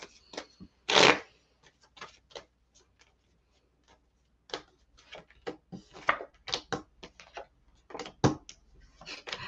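Tarot cards shuffled by hand in a quiet room, a burst of riffling followed by scattered soft flicks, taps and slides of the deck, close and dry with no talking.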